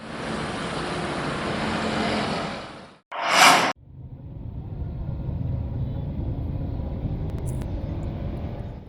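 Heavy dump trucks hauling excavated tunnel soil rumble loudly along a road on Jalan Pesut in Samarinda, a steady broadband roar broken by a brief louder whoosh as one passes close, then settling back into continuous engine and tyre noise.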